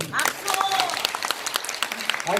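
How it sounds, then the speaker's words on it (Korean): Audience applause in the large conference hall of the National Assembly members' office building in Seoul, a dense burst of clapping from many people with voices mixed in. "동의하시면 박수 치십시오"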